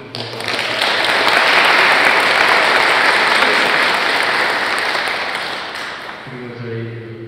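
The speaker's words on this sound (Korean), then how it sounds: "준디님 박수 주세요." A concert audience applauds a pianist in a sustained, full burst of clapping that builds quickly and holds steady, then fades as a voice begins speaking at the end.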